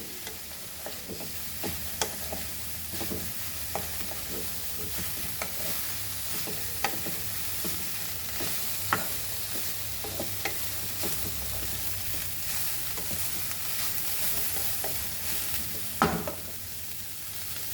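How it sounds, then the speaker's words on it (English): Vegetables for veg Hakka noodles frying on high flame in a wok, a steady sizzle with frequent sharp scrapes and clinks of a spatula stirring, close and continuous with no talking. "So now let us fry this nicely on high flame"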